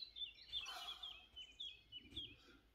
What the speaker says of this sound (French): quand vous entendez en nature les oiseaux